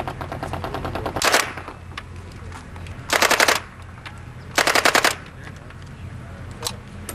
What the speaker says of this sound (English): it was my first time firing a machine gun